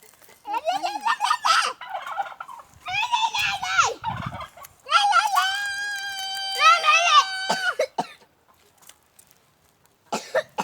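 Turkeys gobble in several loud, warbling bursts close by in a park, with a cough and some voices mixed in between.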